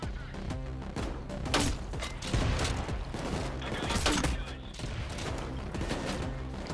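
Enemy gunfire in a heist video game, with rapid bursts of shots and impacts rattling continuously alongside mechanical clatter and thuds, fairly dense and mid-distance throughout.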